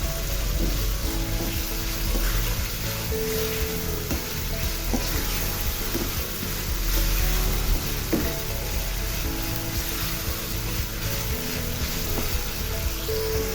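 Garlic and ginger paste frying in oil in a pan for a chicken and cauliflower curry, a steady, close sizzle with occasional soft scrapes and taps of stirring, no voices.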